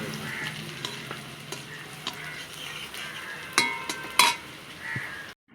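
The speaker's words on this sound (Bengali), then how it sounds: "আদা কুচি, রসুন কুচি এগুলো হালকা করে ভাজা হয়ে গেছে।" Chopped ginger and garlic sizzle in a pan while being stirred, a steady frying hiss broken by a few sharp clinks and scrapes of a spoon against the pan.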